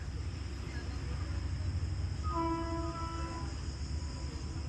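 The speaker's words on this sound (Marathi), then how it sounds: "आणि ट्रेनचा आवाज येते, ट्रेन वरतून जाते कोकण रेल्वे." A Konkan Railway train passing overhead on a high line above a dammed river: a low continuous rumble, with a faint horn tone rising briefly midway, carried from a distance.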